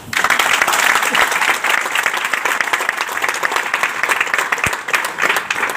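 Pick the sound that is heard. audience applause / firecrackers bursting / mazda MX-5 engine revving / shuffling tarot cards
audience applause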